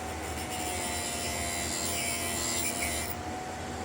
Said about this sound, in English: and then you are putting your drill bit down.